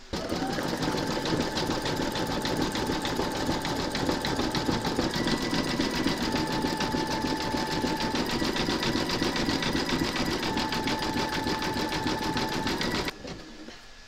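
An embroidery machine stitches an applique round on a large in-the-hoop scarecrow design, giving a continuous rapid, even needle clatter that stops abruptly near the end.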